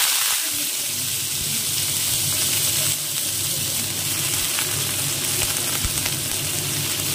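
Vegetables dropped into hot oil for a healthy home-style dish set off a loud, continuous sizzling hiss, heard close and unbroken throughout.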